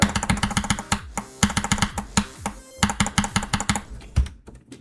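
Fast, rhythmic clicking while playing a game level, bursts of rapid mouse or key clicks in tight clusters with brief gaps, crisp and close to the microphone.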